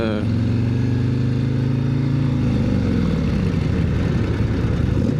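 A Harley-Davidson CVO motorcycle with a built 135 engine rumbles loudly up close, holding a deep steady drone before the tone shifts and roughens into a rougher throttle change.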